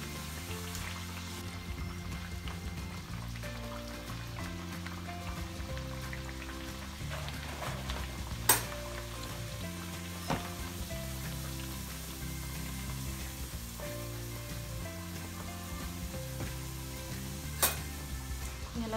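Kombdi vade puff up in hot oil while being moved around with a spoon, and a steady, rain-like sizzle carries on throughout. A few sharp clicks from the utensil break through.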